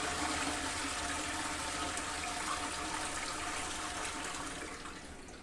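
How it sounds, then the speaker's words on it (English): A toilet flushing in Norway, a powerful, steady rush of water that roars close and loud for about five seconds, then begins to fade toward the end. "Is that not the most intense flush you've ever seen?"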